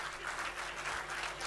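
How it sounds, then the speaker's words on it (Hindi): Steady, dense applause from a crowd at a national Hindi poetry gathering on a college campus, continuous and fairly distant, filling the whole moment without a break. "थोड़ी सी तालियां बजा दीजिए"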